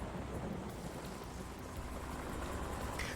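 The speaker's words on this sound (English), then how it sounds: "Though I realise it's just rain at the moment." Continuous rain in a stealth action video game, an even wash of hissing noise with a watery low rumble, unbroken for the whole stretch and free of any talk.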